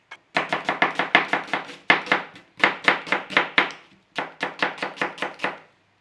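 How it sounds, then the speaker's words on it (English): Knife chopping through onions on a board for a savory pie: quick, close, evenly spaced cuts in three bursts of steady rhythmic strokes, with brief pauses between runs and no talk. "So just slice your onions"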